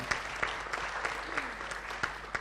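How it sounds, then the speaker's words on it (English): Scattered audience applause at a television series launch event, with sharp individual claps standing out from a soft, fairly faint background of clapping and no voices. "A round of applause."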